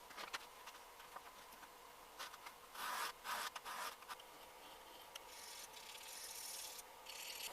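Curved plane iron from a Stanley 100-1/2 being sharpened on 320 grit, heard as a soft, steady back-and-forth rasping scrape, fairly faint, with no voices.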